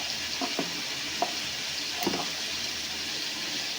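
Home-ground chili powder fries in oil with a steady sizzle and bubbling hiss, while a few soft scraping and tapping stirs sound over it.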